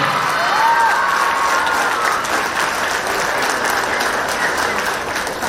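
Loud, sustained applause and cheering from a large crowd at a school sports meet, filling the whole stretch evenly as a sports captain receives a trophy, with a brief whistle near the start.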